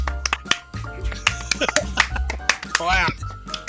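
Sharp hand claps snap out several times over lively conversation, crisp and close, mixed in among laughter and overlapping voices.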